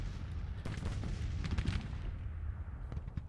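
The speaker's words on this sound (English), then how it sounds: "But the skirmishers protected Reynolds' flank there from the gunfire." Battlefield gunfire and artillery in the Grand Tactician Civil War strategy game, a dense continuous rumble of distant musket volleys and booming cannon shots, with sharper bursts rising and fading throughout.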